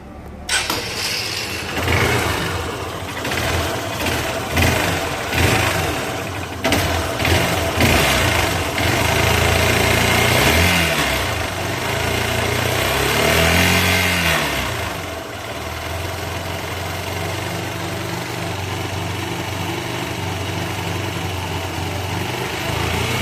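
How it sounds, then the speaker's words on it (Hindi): A Hero Hunk motorcycle engine, freshly repaired after crank work, runs loud and close with a raspy mid-pitched note that revs up and down early on, then settles into a steadier idle. "इंजन का साउंड सुन लीजिए"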